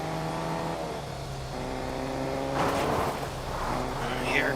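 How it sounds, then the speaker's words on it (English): A racing video game car engine played on a Lenovo Legion 5 laptop, with a steady droning hum that swells into a revving surge near the end while a voice talks over it. "I hear a car."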